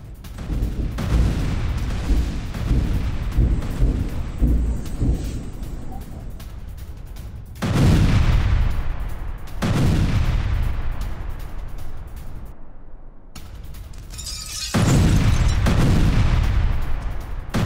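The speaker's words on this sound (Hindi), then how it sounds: "ये इस वक्त ये देखिए थर्माइट बम से हमला किया गया" Repeated heavy blasts and rumbling impacts from thermite bomb attacks in Avdiivka, Ukraine, with several loud bursts separated by stretches of continuous crackling and roaring fire.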